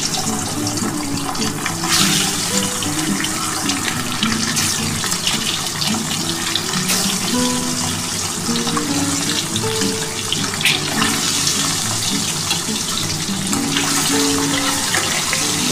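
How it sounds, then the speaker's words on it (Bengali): Eggs frying in hot oil in a pan give a loud, steady, close sizzle that continues unbroken, with faint melodic music underneath. "আমার তেল কিন্তু গরম হয়ে গেছে। এবার আমি ডিমগুলো ভেজে নিচ্ছি।"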